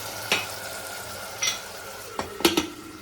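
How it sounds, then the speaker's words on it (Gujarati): Ginger garlic paste sautés in oil, a low steady sizzle broken by several sharp stirring scrapes and taps against the pan, close and without voices. "તો અહીંયા તેલમાં ભલે સતડાય,"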